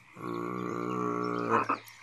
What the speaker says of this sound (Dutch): toen er plotseling gekwaak klonk